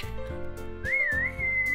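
A person whistles alone: a short clear melodic whistle that rises and wavers over a steady background tone, close and moderately loud, no talking.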